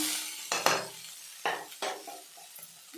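A spoon scrapes and stirs snake gourd curry with ground masala in a pan, with a few sharp clinks and scrapes spaced apart over a soft sizzle, close and fairly quiet, no talking.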